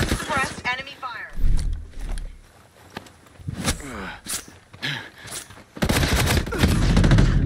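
Unsuppressed enemy gunfire rattles in a video game shootout, with scattered shots and then a dense, sustained burst at the end, and a player talking in between.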